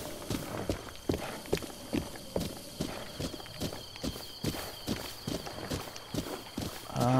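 Horse hooves in a Zelda video game clop in a steady, quick rhythm at close range, with a faint tonal game sound rising at the end.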